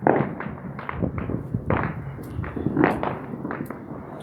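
Fourth of July fireworks and firecrackers burst in a rapid, uneven series of loud cracks and thumps at close range, one report following another with barely a pause.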